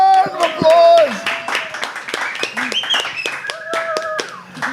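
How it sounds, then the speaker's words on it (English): Scattered hand clapping from an audience at a Speak Up Monday health talk at Tropical Nomad in Bali, a short round of applause mixed with chatter and voices talking over it. "Round of applause."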